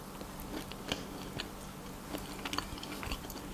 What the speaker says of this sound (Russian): А краешек печенья слегка хрустит.